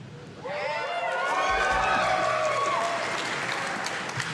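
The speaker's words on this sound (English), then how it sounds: "It needed room for that applause." Audience applause at a live Capcom game showcase, breaking out after a short lull and holding as a dense, steady wash of clapping with light cheering mixed in.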